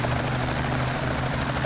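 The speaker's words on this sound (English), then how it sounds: "another attraction at the fair this year is the helicopter rides, and they kept busy all day long" A helicopter giving rides at the Berlin Fair drones steadily and loudly, its rotor throb and engine whine continuous and close throughout.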